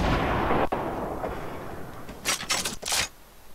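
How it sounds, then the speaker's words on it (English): A loud rumbling blast from a Fortnite rocket launcher opens the clip, then fades, followed by a few sharp, bright cracks near the end, with no talk. "Someone has a rocket launcher?"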